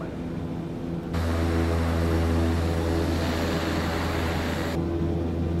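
A Beechcraft Starship turboprop engine in Microsoft Flight Simulator spools up from a low idle into a loud, steady broadband roar with a constant low drone, heard alone without talk.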